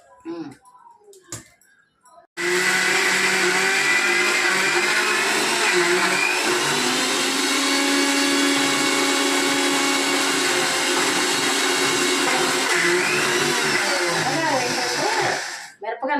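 A kitchen mixer grinder whirs steadily as it grinds dried red chillies and salt into a spicy powder, a loud continuous drone that starts abruptly after a few soft knocks and runs unbroken for most of the time.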